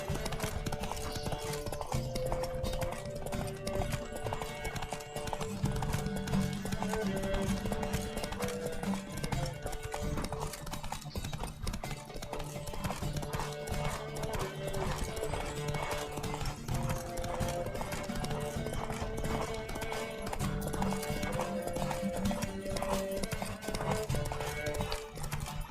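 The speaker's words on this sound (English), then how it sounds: "Don't spare the horse!" In a Witcher 3 horse race, galloping hooves drum in a fast, steady clip-clop rhythm throughout, loud and close, with occasional horse snorts and a faint game score beneath.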